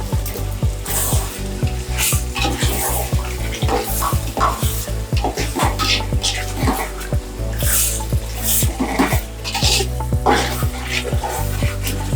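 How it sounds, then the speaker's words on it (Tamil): Cleaned chicken pieces are dropped into onions frying in hot oil in a pan for chicken biryani, and the oil sizzles steadily and loudly up close while a spoon scrapes and clacks in a quick, uneven rhythm. "இதில் சுத்தம் பண்ணி வச்சிருக்க சிக்கன் இதில் சேர்த்துக்கலாம்"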